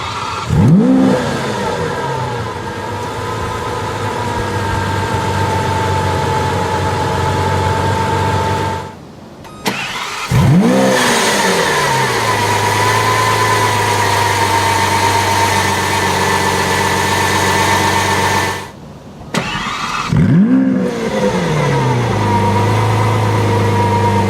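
A 2017 Lamborghini Aventador S fires up with a loud, close burst of revs that settles into a steady idle. The start-up and idle is heard three times, each separated by a brief silence.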